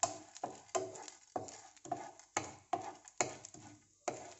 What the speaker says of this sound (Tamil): இது வந்து லைட்டாக வந்து ஒரு பொன்னிறம் வர வரைக்கும் வதக்கணும்.